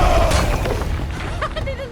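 A cannon fires in En Garde!, a loud booming blast that fills the opening and decays into a rumbling, crackling tail, with brief higher squeaks near the end.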